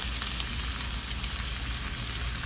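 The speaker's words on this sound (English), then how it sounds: "The tenderloin right now is at a very good sear." Pork tenderloin searing in a hot pan, a steady, close crackling sizzle that runs unbroken with no talking.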